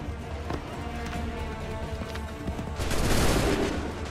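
Musket volleys in the Assassin's Creed III video game battle, crackling gunfire layered over dense battlefield din, swelling into a louder burst near the end, no clear talk.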